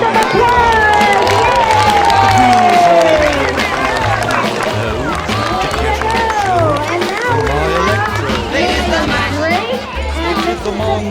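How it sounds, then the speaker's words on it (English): An audience at a third-grade class performance cheers and applauds, with scattered whoops and excited voices over a busy crowd noise and a musical backing underneath. "Give them a big round of applause!"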